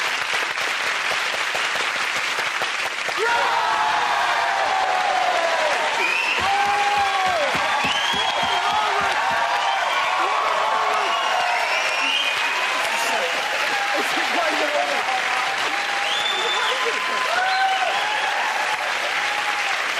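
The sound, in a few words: audience applause and cheering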